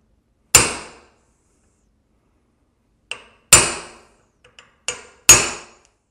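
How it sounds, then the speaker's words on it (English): Hammer strikes a punch to stake a castle nut into a rifle latch plate: three sharp, loud metallic whacks with ringing decay, spaced apart, plus a couple of lighter taps between, no talk. "So now I've hammered a hole kind of in the latch plate"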